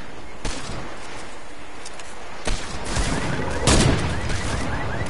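Pistol fire in a video game: several sharp, loud shots ring out at irregular intervals, with a denser cluster of blasts partway through.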